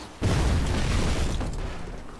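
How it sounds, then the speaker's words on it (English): Explosion in the video game Crysis set off by shooting a can, a sudden loud boom that hits hard and then rolls into a long, dense rumbling decay lasting a couple of seconds. "Nice explosion, though."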